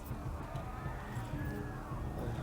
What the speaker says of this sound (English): Horse doesn't seem to run very fast.